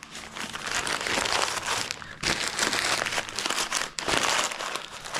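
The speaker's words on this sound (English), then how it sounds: "did I unwrap this one weird?" Crinkly packaging is unwrapped from a Duramax LB7 6.6 diesel fuel injector, giving continuous close crumpling and rustling with a few brief pauses and no talking.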